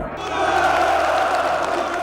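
A large crowd roars and cheers continuously at a public gathering in Romania, a dense, steady wall of massed voices with shouts rising out of it throughout.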